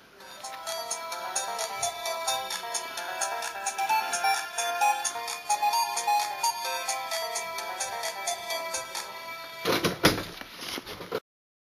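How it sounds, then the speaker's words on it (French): An Alcatel OT800 mobile phone plays a melodic ringtone, a bright, rhythmic electronic tune of rapid repeating notes that runs for about ten seconds before a brief louder burst and a sudden cutoff. "c'est une sonnerie que j'aime beaucoup, ainsi que plein d'autres"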